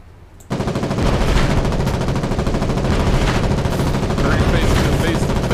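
Sustained automatic gunfire from a Foxhole battle breaks in loudly after a brief quiet moment, then rattles on densely and continuously as overlapping weapons fire near and far.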